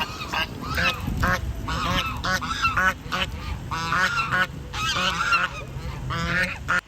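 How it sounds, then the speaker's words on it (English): Several geese honk repeatedly at close range, loud nasal calls overlapping in quick bursts against a low outdoor background noise. "See, they're honking in real life."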